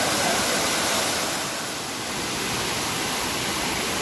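Shivdav waterfall at Kankavli, a dense, steady roar of falling water, loud and close, continuous throughout with no voices.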